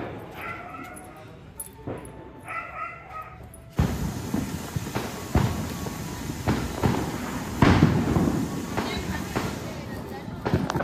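Diwali fireworks are set off outdoors, with loud repeated bangs and crackling bursts after a quieter start, and people talk and exclaim throughout.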